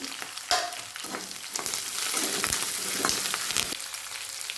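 Green chillies fry in hot oil in a pan, a close, steady crackling sizzle with spitting pops and a few stirring scrapes, no voices.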